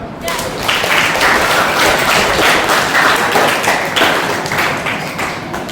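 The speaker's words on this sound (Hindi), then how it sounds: "तालियां बजाओ सब।" Children at a summer camp clap together, a steady crowd of small hands patting continuously and fairly close, with voices mixed in throughout.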